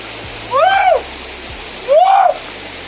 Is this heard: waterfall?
yes